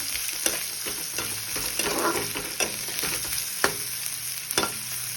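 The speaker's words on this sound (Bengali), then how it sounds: "এগুলো দিয়ে এবার আমি এগুলোকে লাল লাল করে ভেজে নেব" Cashew nuts sizzle steadily in hot, slightly darkened oil in a pan, a constant bright frying hiss broken by repeated scrapes and knocks as they are stirred.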